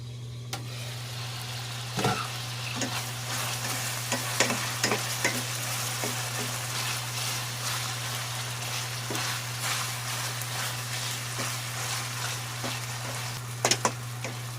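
Pork and tomatoes fry in a pan, a constant dense sizzle over a steady low hum, with intermittent spatula scrapes and taps as they are stirred, close and without speech.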